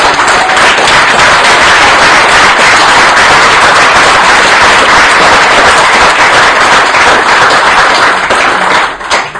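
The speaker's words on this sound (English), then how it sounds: "will you please give another big round of applause to our 5 panelists?" Loud, dense applause from an audience at a humanist election-special panel evening, a sustained roar of clapping that fills the room before tapering off at the very end.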